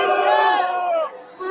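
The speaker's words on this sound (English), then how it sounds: "they booing him" A Toronto concert crowd boos at a show, a loud, sustained massed jeer that rolls on for a second before dipping briefly and swelling again.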